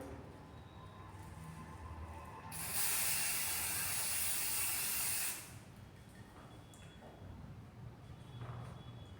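Dye penetrant sprayed from an aerosol onto a weld for inspection makes a single loud hissing burst lasting about three seconds in the middle, with quiet background before and after.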